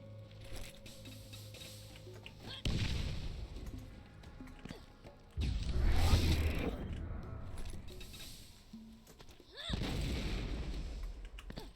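In the Borderlands video game, three loud booming grenade explosions go off a few seconds apart, each a heavy blast with a rumbling tail, between quieter stretches of game ambience.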